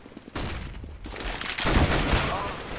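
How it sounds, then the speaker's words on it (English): CS:GO match with a flashbang grenade and gunfire: a sharp burst followed by a louder rumbling blast and sustained crackle, close and loud. "Throw in the flashbang."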